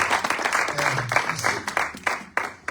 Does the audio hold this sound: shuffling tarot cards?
no